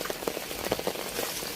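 Rain falls steadily in a flooded village, a dense close patter of drops striking surfaces with no break and no speech.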